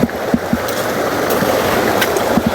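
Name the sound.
water flowing in a stream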